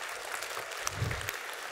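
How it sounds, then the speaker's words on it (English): Audience applause at a literary festival session, a short, soft burst of clapping heard from a distance in a hall. "Can we give her a clap?"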